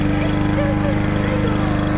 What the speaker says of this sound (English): she's still out there mowing the front lawn here.